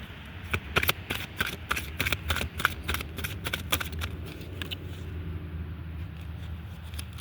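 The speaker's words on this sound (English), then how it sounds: "Let's go ahead and pull a Eternal Crystal Oracle card." Eternal Crystal Oracle cards being shuffled by hand, a rapid run of crisp riffling snaps and slaps for several seconds that settles into quieter soft handling.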